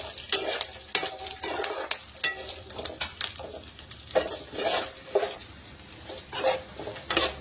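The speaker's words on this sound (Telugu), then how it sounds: "పచ్చిమిర్చి మంచిగా ఫ్రై అయిపోవాలి." Green chillies fry in hot oil, a steady sizzle under repeated scraping strokes of a spoon against the pan as they are stirred, close and fairly quiet, with no talking.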